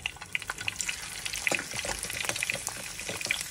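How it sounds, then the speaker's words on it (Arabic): Meat fries in hot oil with a close, steady sizzle and crackle, broken by sharp pops and spatters. "لما الزيت يعني قدح تمام هنحمر فيه اللحمه"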